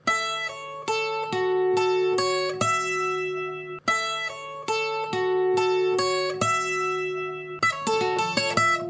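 Slow, deliberate requinto guitar sweep-picked arpeggios, notes picked one after another in repeating rising and falling sweeps, clean and close, with a brief quicker flurry at the end.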